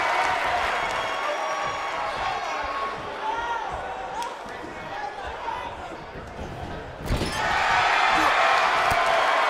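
A capacity arena crowd in the wrestling game WWE 2K19 roars and cheers continuously at high volume, swelling into a louder burst near the end, with match impacts and commentators talking over it.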